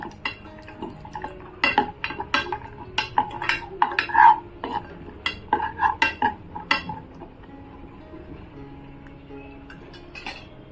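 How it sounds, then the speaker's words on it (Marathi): A spoon stirs and scrapes cashew and almond slivers frying in ghee in a metal pan, giving a close run of irregular clinks and scrapes that thins out after a few seconds, with no one talking. "हे काजू बदामाचे आहेत ना काप आहे, ते पण आपण छानपैकी आहे ना तुपामध्ये परतून घ्यायचे."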